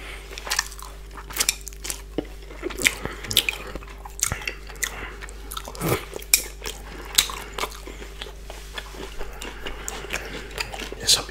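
Close, crisp eating of fish balls, lap cheong, napa cabbage and rice: irregular bites, squishy chews and light utensil clicks against a dish, with occasional soft slurps.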